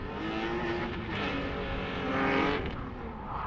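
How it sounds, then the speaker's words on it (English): A BMW E46 drift car's engine roars loud and sustained through a qualifying run at a drift event, rising in revs near the end with a hint of tire noise. "He's driving a real sick E46."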